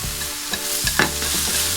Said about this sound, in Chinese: 淋入生抽，加入蚝油，继续翻炒均匀，炒出香味儿